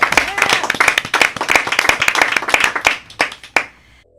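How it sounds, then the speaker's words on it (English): Audience applause welcoming a band onto a music show, a burst of dense clapping that thins into scattered individual claps and fades out near the end. "That's something to applaud right there."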